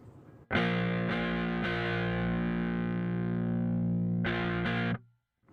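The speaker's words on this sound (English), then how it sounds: "transparent overdrive with kind of a low to medium gain" A mildly overdriven electric guitar, transparent overdrive at low to medium gain, strums a few chords, holding one long gritty sustain before two quick final strums cut off.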